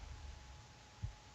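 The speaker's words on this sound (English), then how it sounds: "I hear a heartbeat." Heartbeat in the video game To the Moon: two low, soft thumps rise out of a steady dull hum, the first near the end and the second at the very close, with no talking.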